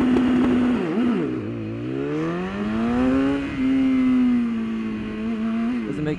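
Superbike engine at full throttle on a race track during BMW Trophy Cup practice, one loud continuous roar held close, its pitch sweeping up and down through gear changes without a break.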